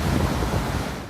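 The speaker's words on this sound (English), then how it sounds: "the strongest winds in a century lashed Puerto Rico" Strong hurricane wind from Hurricane Irma lashes Puerto Rico, a loud, rough, continuous roar with buffeting gusts in a brief burst.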